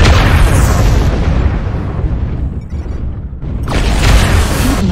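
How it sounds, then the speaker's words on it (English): Artillery strike in a mech combat video game, a loud close boom that rumbles and decays over several seconds before a second burst of blast noise. "Artillery strike."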